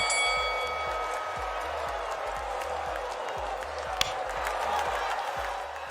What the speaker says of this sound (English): I will have to turn the crowd audio down a little bit